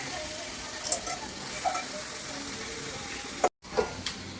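Chicken pieces go into hot oil and fried spice paste in a pan, giving a steady soft sizzle with a few clatters and stirring knocks, while a voice talks over it.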